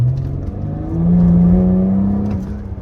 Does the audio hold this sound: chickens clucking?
no